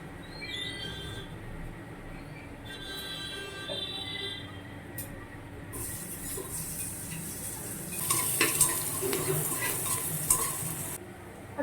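Onion and green chili fry in a pan, a soft sizzle that swells louder in the latter half as a spoon stirs and scrapes, with occasional light clinks of metal against the pan.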